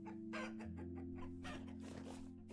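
Chickens clucking in the survival game Vintage Story, a few short clucks and rooster-like calls over a steady droning game background, moderately loud and close.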